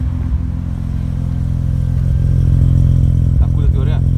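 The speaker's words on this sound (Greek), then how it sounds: "Και το αμάξι δουλεύει, γουργουρίζει" A Mazda RX-7 FD rotary engine running rich rumbles and burbles steadily up close, a continuous low throbbing idle with a few light clatters and brief voice sounds near the end.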